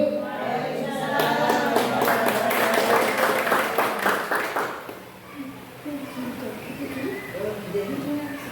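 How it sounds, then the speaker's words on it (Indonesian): Audience applause after a school presentation at an elementary school, a dense burst of clapping for about five seconds that then fades, with a voice speaking over the quieter tail. "Tepuk tangan lagi."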